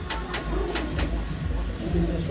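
Fancy pigeons, among them an Andalusian-coloured racer, coo close by in soft, repeated throaty calls over a couple of seconds.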